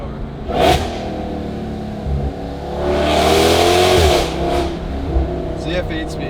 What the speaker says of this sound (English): I love the downshifts on this car.